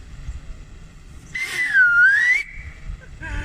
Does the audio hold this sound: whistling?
yes